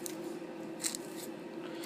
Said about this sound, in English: Just slowly, carefully cut it in half. This is why scissors are helpful.